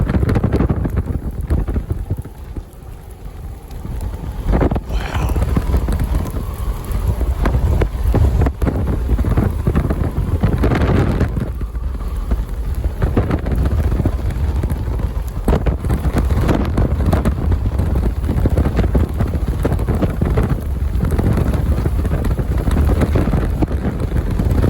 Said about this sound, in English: strong rear flank downdraft winds continue to stream into a massively striated mesocyclone